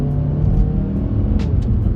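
A 2021 Mazda 3 AWD accelerating hard in sport mode with the pedal floored, a loud low engine rumble from inside the cabin, building steadily with a couple of faint higher chirps.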